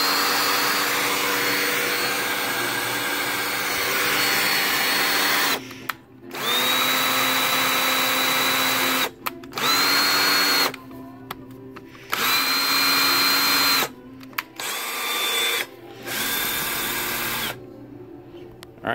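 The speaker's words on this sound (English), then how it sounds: "All right, so I got my drill directly on the valve stem and I'm just gonna rotate it." A handheld drill clamped directly onto an engine valve stem spins it to lap the valve, droning loud and close in repeated long bursts separated by brief pauses.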